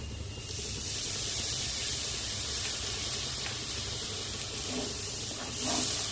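Water poured into a hot frying pan with sugar in it, setting off a loud, steady hiss and sizzle that holds throughout with a slight swell near the end.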